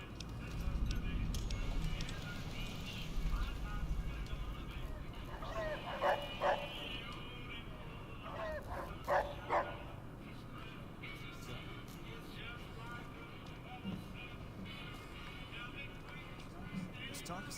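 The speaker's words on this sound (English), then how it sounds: "Where'd you get that robot dog?" A robot dog in Fallout: New Vegas gives a few short mechanical barks and whimpers in small clusters, fairly faint under a constant ambient background hum.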